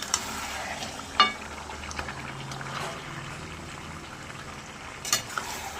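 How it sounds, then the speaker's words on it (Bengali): Mutton stir-frying in a pan for kosha while its juices still run, a low steady sizzle and bubble with occasional sharp clinks of a spoon against the pan. "মাংস কষানো হচ্ছে, মটন কষানো।"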